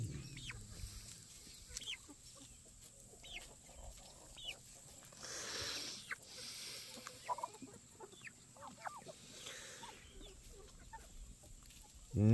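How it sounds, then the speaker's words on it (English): Chickens on a homestead cluck and chatter repeatedly throughout, moderately close, with scattered short calls over a steady outdoor background and no talking. "Leave my chickens alone."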